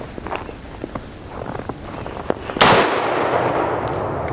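A rifle shot fired at a ceramic NIJ Level IV armor plate, aimed at the upper right corner, lands as one loud close crack with a long noisy tail, after faint shuffling footsteps.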